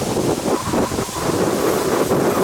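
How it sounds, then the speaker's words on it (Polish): Strong wind roars and buffets continuously while fishing outdoors, a loud, rumbling rush with gusty swells and no voices. "Ale ten wiatr daje popalić."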